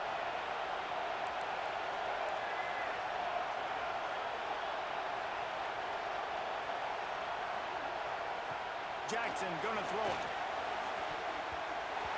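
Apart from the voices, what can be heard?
crowd noise in stadium, EA Sports College Football 26 video game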